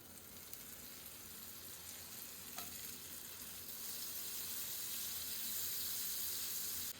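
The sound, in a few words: butter sizzling in a hot pan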